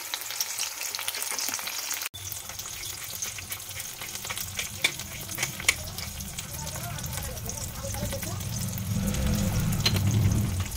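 Two eggs fry in a pan with plenty of oil for a poached-style egg, giving a steady close sizzle with a sharp clatter early on and the frying swelling louder near the end.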